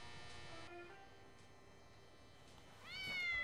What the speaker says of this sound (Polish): Uwaga! Koty doświadczalne uciekają!